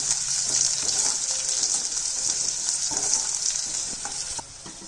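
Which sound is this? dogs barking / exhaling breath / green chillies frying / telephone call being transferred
green chillies frying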